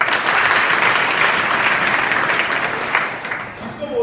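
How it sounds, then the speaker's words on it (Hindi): Hearty applause from students in a school classroom, a dense, loud wash of clapping that holds steady and then tapers slightly near the end. "तो इनके लिए मैंने जोरदार ताली।"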